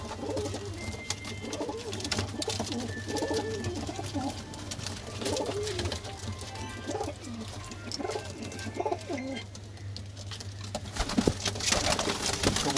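Soft cooing from Punjabi pigeons repeats over a constant background hum and clatter, fairly faint and continuous throughout.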